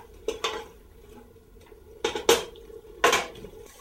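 A spoon clatters against a pot while risotto is stirred, three separate bursts of metallic scraping and knocking with quiet pauses between them, close and fairly loud.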